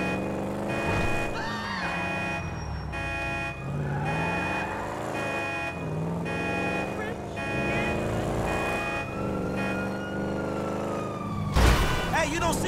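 A police car siren wails in GTA 5, close and loud, rising and falling in long sweeps over a steady rumble of traffic, with what sounds like voices over it.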